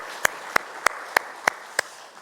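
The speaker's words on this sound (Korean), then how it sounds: "하나님 앞에 영광의 박수 올려드리겠습니다" Six crisp, evenly spaced claps in unison from a church congregation during worship, each a single clean beat over a quiet room.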